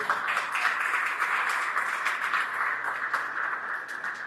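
A church congregation applauds together in a service, sustained dense clapping that stays fairly even and fills the whole moment without any voices over it.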